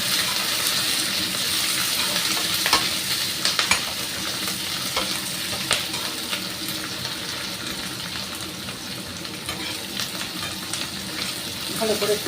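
Ridge gourd frying in a pan with onion gives a continuous moderate sizzle, broken by scattered scrapes and taps as it is stirred, with the pan noise staying steady and fairly close.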